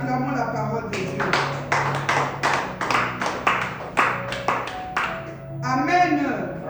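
A church congregation claps together after a sermon, about a dozen sharp, fairly even claps over several seconds, bracketed by someone speaking in French.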